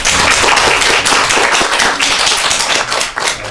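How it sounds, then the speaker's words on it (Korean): Applause from an audience at a student debate contest, honoring two student debaters: dense, steady clapping throughout, fairly loud and close, with no talk over it. "지금까지 수고해주신 두 학생에게 박수를 부탁드립니다."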